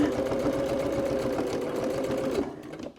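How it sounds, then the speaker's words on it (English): A sewing machine runs a quick, steady burst of rapid stitches into a leather wallet, then stops abruptly at the end. "let's do one more stitch. Back stitch, jump across."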